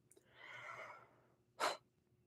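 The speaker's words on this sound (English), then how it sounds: "oh my God, I'm gonna yawn again." A long, drawn-out breathy yawn heard up close, then a short sharp exhale or snort near the end.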